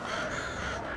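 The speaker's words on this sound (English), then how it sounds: "Birds?" Crows cawing in the video game Alan Wake 2, a harsh drawn-out caw or two heard close against a rough ambient backdrop, brief and alone.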